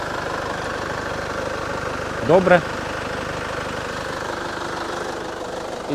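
A Chevrolet Captiva 2.2 diesel engine idles with a steady low knocking rumble throughout, close by; someone briefly says a word over it.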